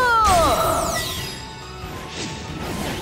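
A cartoon Power Missile attack effect from a dinosaur battle, opening with descending whooshing tones and a loud smashing crash, then a rumbling tail that fades slightly without any talking.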